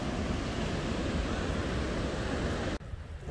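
Ocean surf rolls steadily onto a beach during a Fourth of July outing, a loud continuous wash of waves that cuts off abruptly near the end.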